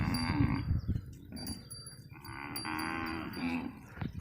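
Gir cows low and moo in a field at a Maldhari village, several long, deep calls from nearby cattle. Faint background noise surrounds the calls, and no one speaks.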